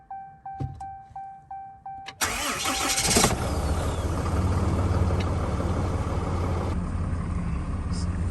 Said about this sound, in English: And then we're gonna start the truck.